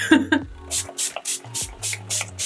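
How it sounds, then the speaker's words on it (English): Several short, soft bursts of setting spray hiss onto a face one after another in a steady rhythm, close by, after a quick voice at the start. "I'm gonna spray some all-nighter"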